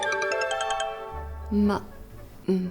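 A phone rings at Christmas Eve with a call from mom: a short, bright electronic tone repeats rapidly for under a second before voices take over.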